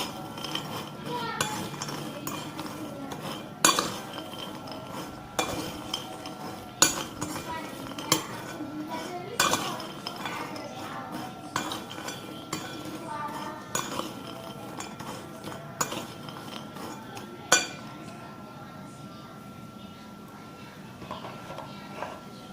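A spoon stirs sugar into spiral macaroni, clinking and scraping against the pan in scattered, faint taps spread over a steady soft background.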